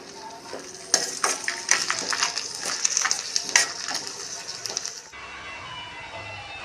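Turkey berry chutney ingredients sautéing in a pan, a bright sizzle with rapid metallic clinks and scrapes of stirring for about five seconds, then a quieter, duller hiss once the stirring stops.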